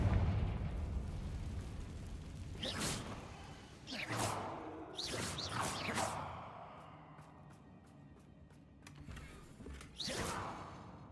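Confringo fire spell blasts in Hogwarts Legacy: several sharp, loud bursts with whooshing tails arrive in uneven succession over rumbling game ambience, with a later burst near the end.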